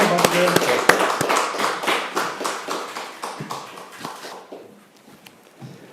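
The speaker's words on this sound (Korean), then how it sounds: "큰 박수 부탁드리겠습니다" Applause from a congregation at a Korean church federation joint worship service, loud sharp claps near the start that thin out and fade over several seconds into quieter scattered claps, with some talk in the room.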